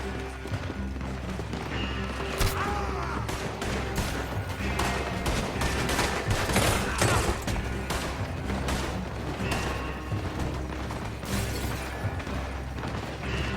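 Video game shootout in a Western setting with an oil wagon nearby: dense, continuous gunfire and clatter over a steady rumbling background, loud and busy throughout with overlapping shots and movement noise.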